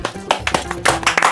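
A small group of people in a comedy TV scene claps in an irregular, loose patter, close and fairly loud, while a voice carries on underneath.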